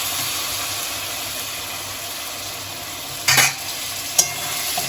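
Chickpea masala frying in a pan gives a steady close sizzle and hiss, with one louder scrape or splash of stirring near the end and a quick clink after it, and no speech.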